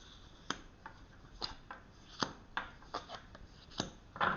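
Tarot cards are shuffled and cut by hand at close range, with soft sharp snaps and riffles spaced irregularly in a quiet room.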